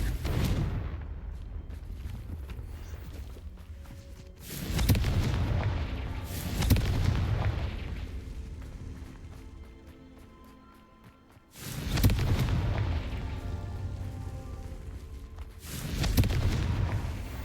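Confringo fire-spell blasts in Hogwarts Legacy: deep, booming explosions recur every few seconds, each rumbling out over a low crackling bed of fire and debris.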